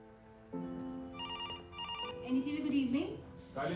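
A telephone in a TV newsroom gives a trilling ring in two bursts over a low background hum. A voice then speaks over the end of the ringing.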